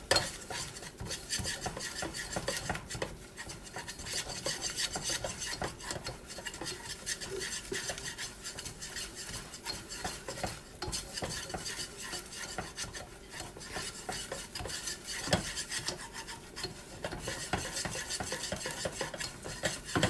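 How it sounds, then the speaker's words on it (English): A roux for béchamel sauce is whisked steadily in a non-stick pan, making a continuous rapid scraping and rubbing sound, fairly quiet and close, with no voices. "You gotta keep whisking this until it turns golden."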